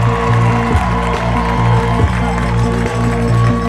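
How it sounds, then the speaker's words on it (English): A home crowd cheers and roars steadily at a college football game, North Greenville versus Delta State on homecoming, with a loud, sustained stadium wash and periodic low thuds beneath. "This home crowd is fired up for bonus football."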